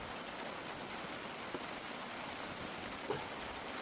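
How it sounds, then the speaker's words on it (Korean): Rain falling steadily on a farm during the garlic harvest in the rainy season, a soft, even hiss of drops with a couple of faint knocks, heard alone without voices. "비가 오네 비가"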